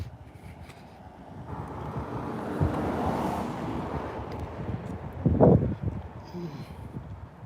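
Wind gusts buffet the microphone on an outdoor fitness walk near palm trees, a rough rumbling whoosh that rises and falls, with a voice speaking over it.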